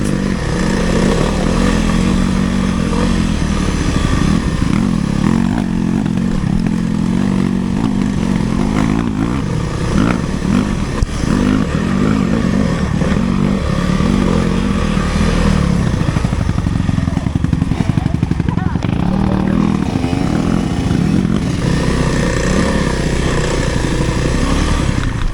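A Kawasaki KLX300R dirt bike engine drones loud and close while riding in low gear, a continuous rough growl with wind buffeting and small shifts in revs throughout.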